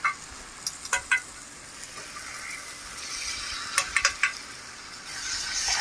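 Boiled eggs being turned over one by one in a simmering tomato egg curry: soft bubbling sizzle beneath a few sharp spoon clinks and taps against the pan, close up, without talk.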